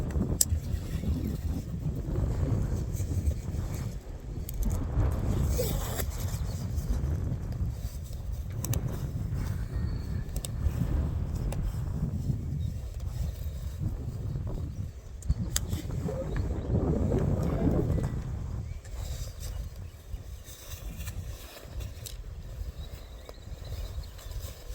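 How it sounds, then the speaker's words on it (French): Cold wind buffeting a microphone on a moving motorcycle during a road trip in the Vosges, a continuous rough low roar that swells and fades, with muffled engine noise and someone speaking at times over it. "Il y a un vent qui est un peu glacial là."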